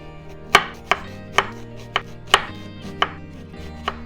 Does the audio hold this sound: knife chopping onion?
yes